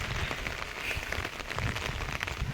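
Steady patter of rain drumming on an umbrella overhead, dense and continuous, moderately close with no voices.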